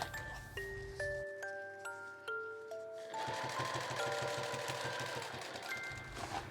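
A sewing machine stitches along the edge of a zippered insulated bag sewn from fabric scraps. Steady, rapid low chugging runs under light background music, pausing briefly and then running again for several seconds.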